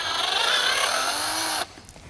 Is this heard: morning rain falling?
no